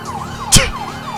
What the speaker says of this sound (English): I don't think they can hear the sirens.